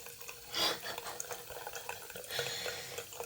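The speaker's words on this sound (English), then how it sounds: "it also leaks. Let's see the water coming out there too." Cold water leaking from a sink tap, a faint trickle with light splashing and a couple of brief louder gushes, close by and quiet.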